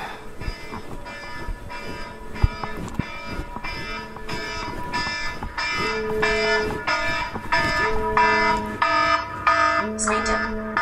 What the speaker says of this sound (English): And the endless alarms begin.